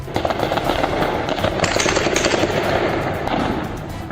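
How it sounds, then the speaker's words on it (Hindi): Gunfire during street protests in Iran, a dense, loud, continuous crackle of rapid shots with no pauses, heard from a distance with an outdoor echo. "खामेनेई के खिलाफ विद्रोह कर रहे लोगों को चुन चुन कर गोली मार रही है"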